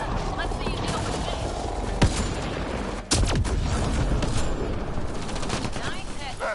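Rapid gunfire from the Mass Effect: Andromeda video game on PS4, bursts of shots crackling steadily through a dense battle mix with a couple of sharper cracks standing out, while a character's voice talks over the fighting.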